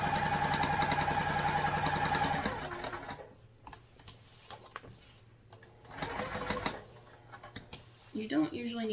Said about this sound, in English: So we'll sew right along this box here, pivoting at the corners.